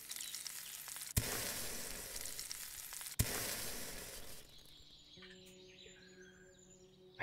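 Food frying over a fire while cooking in the video game Above Snakes: a faint steady sizzle in two bursts separated by sharp clicks, then a quieter ambience with a few bird chirps and tones.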